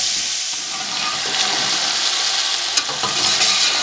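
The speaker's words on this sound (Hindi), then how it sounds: "अब इनको 2 से 3 मिनट के लिए अच्छे तरीके से फ्राई कर लेंगे" Chicken and finely chopped tomatoes fry in a pan for jungli pulao, a close, dense, continuous sizzle with faint stirring ticks and no voices.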